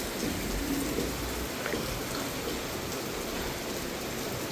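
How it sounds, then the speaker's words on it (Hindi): Steady rainfall outdoors during an evening downpour, a continuous broadband hiss with no talk, even and moderately distant throughout. "बारिश हो रही, बारिश में कहाँ जाओगे?"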